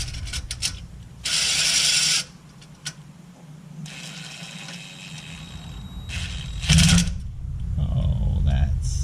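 A ratchet runs bolts down fairly tight on a car's rear end, with bursts of quick clicking separated by pauses and occasional clanks nearby.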